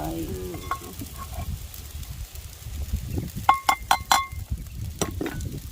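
Fried rice stir-fries in a pan at a riverside spot, a steady sizzle with spatula scrapes and a run of sharp metallic clinks toward the end.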